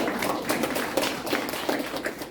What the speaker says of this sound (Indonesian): tepuk tangan dong Delma